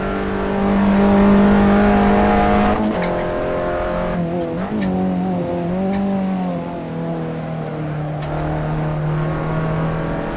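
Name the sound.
race car engine changing gear, Assetto Corsa video game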